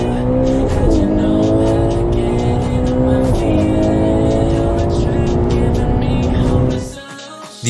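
Loud, close drone of a Ferrari Purosangue's naturally aspirated V12 engine, holding a high, rising and falling howl with a few pitch shifts before cutting off abruptly near the end.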